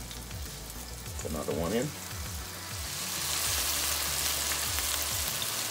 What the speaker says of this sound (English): while your Fritters is frying, you just want to push them a little bit